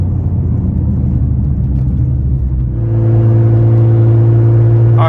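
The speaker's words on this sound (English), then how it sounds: "So you do have a lot of exhaust noise" Nissan GT-R with a catless Fabworx 4-inch straight-pipe exhaust and titanium tips, heard from inside at highway speed as a loud, steady low rumble that settles into a droning hum.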